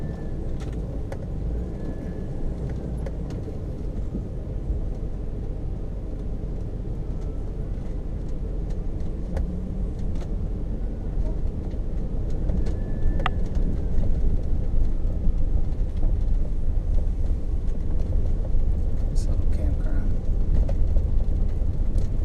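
An RV drives down a road in central Michigan, giving a steady low rumble of engine and road noise that grows slightly louder partway through and never lets up.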